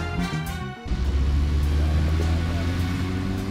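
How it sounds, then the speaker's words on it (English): Loud car engine from the video game Deadly Premonition, a steady low rumbling drone that stays heavy and close throughout, with a brief dip near the start before the motor swells back up. "That's a loud-ass car."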